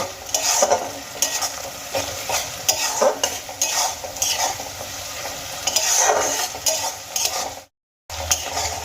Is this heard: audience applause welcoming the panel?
no